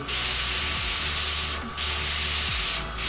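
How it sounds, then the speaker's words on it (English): An airbrush sprays freestyle clouds over a tattoo stencil, held very close, giving loud continuous hissing bursts with two brief pauses between them. "I'm going to get really close and I'm going to spray"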